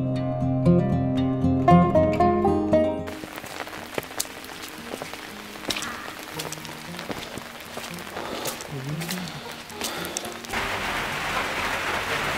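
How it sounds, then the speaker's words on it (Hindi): Rain falls steadily on an open hilltop at about 10,000 feet at Thandiani Top near Abbottabad, a soft continuous patter with scattered drips after a brief burst of music at the start. "बारिश हो रही है"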